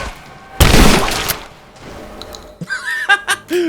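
A loud burst of gunfire from a weapon in Rise of the Tomb Raider, one dense volley lasting about a second, followed by quieter game noises and a few scattered sharp hits.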